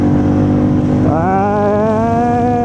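Royal Enfield Bullet 350 single-cylinder motorcycle engine pulling hard through the gears, its tone rising steadily in pitch after a brief shift, loud and close with constant road and wind noise underneath.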